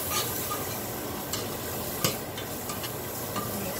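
Masala bhindi curry with salt and spices is stirred in a hot pan over a low flame, with close scraping of the spoon over a steady sizzle and a few sharp clinks against the pan.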